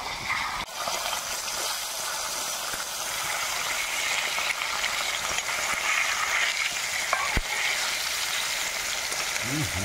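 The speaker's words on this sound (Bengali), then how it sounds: "এখন আমি মাছগুলোকে সুন্দরভাবে ভেজে নেব।" Fish, river bata, frying in hot oil in a wok for a home-cooked meal, a steady broad crackling sizzle that runs without pause close up, with a few clicks and clatters near the start.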